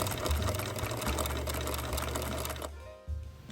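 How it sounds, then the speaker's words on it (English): Domestic sewing machine zigzag stitching an appliqué Sunbonnet Sue quilt block, a fast continuous mechanical whir with rapid needle clatter that runs steadily, then stops near the end before a brief restart. "I then got going on applique zigzagging my Sunbonnet Sue's down."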